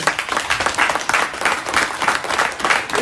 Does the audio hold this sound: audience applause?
yes